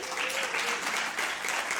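Dense, steady audience applause fills the whole moment at a talk on healthy aging, a close crowd clapping continuously without pause.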